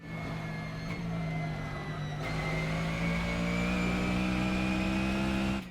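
GT3 race car engine at Laguna Seca in the racing game Assetto Corsa, a loud steady drone with a gear shift, then rising revs that cut off abruptly at the end.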